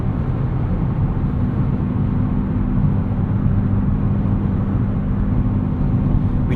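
2024 Nissan Z Nismo cruising on a highway in ninth gear, a steady low drone of engine, tyre and road noise filling the cabin without break, no voices.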